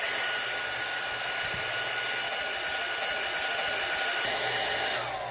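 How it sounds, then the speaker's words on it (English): A hair dryer on its cool setting blows steadily to dry glue, a loud, constant whooshing hiss held up close and alone for several seconds. "Then I will take a hair dryer on cool and let it dry."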